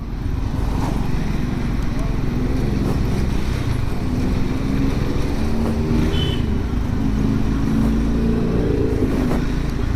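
A Triumph Scrambler 400 X motorcycle on the move gives a continuous loud engine drone mixed with rushing wind, holding steady in pitch with no clear revs or gear changes across the ride.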